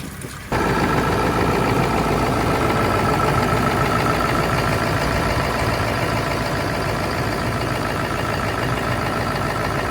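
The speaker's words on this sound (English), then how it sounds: "So I'm gonna start the engine and let it run for a few minutes too." A 2000 Ford F350 pickup engine starts up after a moment of quiet, then idles steadily and loudly for several seconds during a coolant flush, with no voices.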